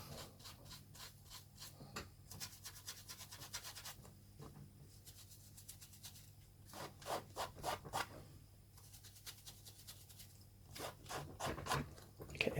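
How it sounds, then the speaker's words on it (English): A tool scrapes excess paint off a model rock terrain piece in short, repeated rasping strokes, coming in bursts with pauses, close and fairly quiet, without any talk. "What I was doing there was just literally scraping off any excess that I'd put that I didn't really want on there."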